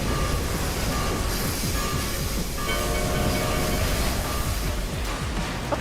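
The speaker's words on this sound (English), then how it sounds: "Oh my, a train!" A train passes in the video game Final Fantasy XIV, a loud, continuous rumble of rolling wagons with faint rhythmic clatter and a brief high tone, no speech over it.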